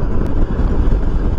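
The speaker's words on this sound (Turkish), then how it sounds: "Şu anda muazzam bir rüzgar var." Strong wind buffets a helmet-mounted camera microphone on a motorcycle riding at about 70 km/h. The result is a loud, continuous, low rumbling roar with no pauses.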